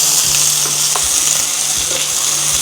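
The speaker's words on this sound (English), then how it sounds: "we will stir fry our onions until they are light brown in color." Onions stir-frying in a pot with a steady, close sizzle and faint scraping stirs throughout, no voices.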